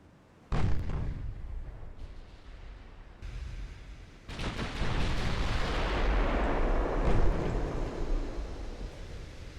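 Cruiser guns fire in the naval game Ultimate Admiral: Dreadnoughts during a Black Sea battle, heavy booming salvos landing in separate bursts, followed by a sustained roaring rumble of continued gunfire and blasts.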